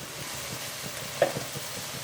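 A base gravy for a baby corn masala sizzles in a pan after Kashmiri chili powder goes in, a soft continuous frying hiss with a brief scrape of stirring, heard close and without talk.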